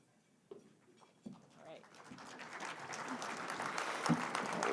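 Audience at a Portland State University real estate conference breaking into applause, starting with a few scattered claps and swelling into steady, fairly faint clapping from a crowd in a hall.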